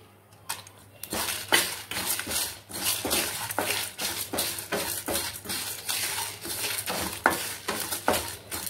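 Dried red chillies roasting with sesame seeds and lentils in a kadai, giving a steady run of light scraping and clinking as a ladle stirs them against the metal pan, close by, with a faint low hum beneath.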